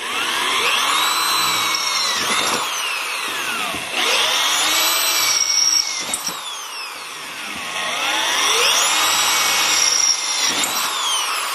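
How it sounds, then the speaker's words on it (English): A power drill with a 5/16 bit punches holes through the corners of a window cutout, its motor whining up and down in repeated loud surges with short pauses between holes. "First thing I got to do is drill four holes in the corners."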